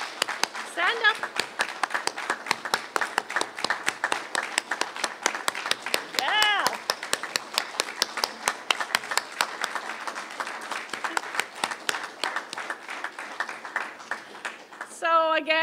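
An audience at a provincial election campaign event applauds participants, steady clapping throughout at moderate distance, with a few voices and a cheer rising briefly above it.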